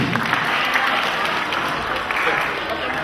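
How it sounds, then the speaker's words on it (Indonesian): Applause from an audience at an Indonesian talk session fills the whole stretch as a steady, dense wash of clapping, fairly loud and close, with no voice standing out. "Tepuk tangan, pinter bisa kayak gini."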